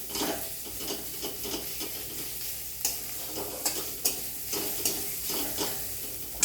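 Finely chopped onion sautéing in a little oil for upma vadas gives a soft steady sizzle. Regular spatula strokes scrape and tap against the pan about every half second, up close with no talk.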